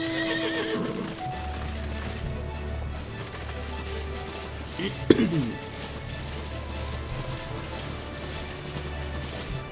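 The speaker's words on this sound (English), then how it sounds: "Probably should just jump on my horse, actually." In the video game Final Fantasy XIV, a horse whinnies, then hooves clip-clop steadily over a low ambient hum, with a brief clatter midway.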